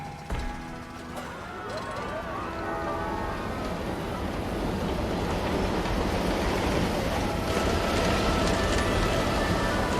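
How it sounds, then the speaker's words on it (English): Mine train roller coaster ride in Planet Coaster 2: a steady, loud, rushing rumble of the coaster moving along its track builds after a brief tonal start and continues without a break, with a voice talking over it. "Here we go on Gulpy's Mine Train."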